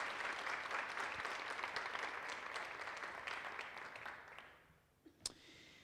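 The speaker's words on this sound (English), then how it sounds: "Let's give everybody that's had anything to do with those a round of applause." An audience at a campus awards event applauds in a broad wash of clapping that gradually thins and fades out, with a single sharp tap near the end.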